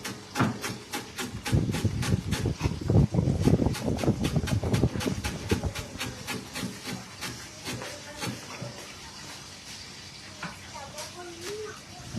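A knife chops lemongrass on a cutting board in a quick, steady run of sharp taps, about two or three per second, close and crisp, with a murmuring voice partly underneath.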